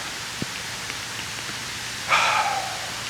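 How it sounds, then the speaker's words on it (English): Rain falling outdoors during a wet city camera shoot, a steady soft hiss of drizzle with a few faint drips and a brief louder sound near the end. "It is raining, man."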